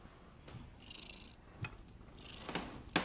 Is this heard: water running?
no